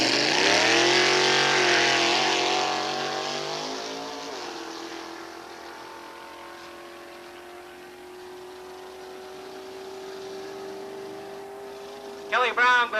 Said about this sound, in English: That 1990 Neal & Park chassis dragster, 454 cubic inch Chevrolet motor.